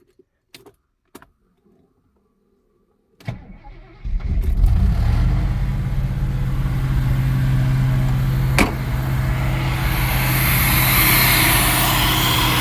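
A classic car's engine cranks and fires on a cold morning after a couple of faint key clicks, then settles into a loud, steady, high idle that runs close by without talk.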